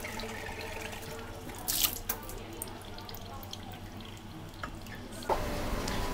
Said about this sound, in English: So we're just pouring this in the machine now.